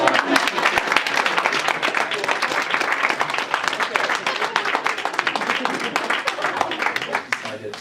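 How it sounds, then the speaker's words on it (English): An audience at a taco culinary competition gives a sustained round of applause, dense rapid clapping filling the room, with voices talking over it before it tapers off. "Give her a round of applause."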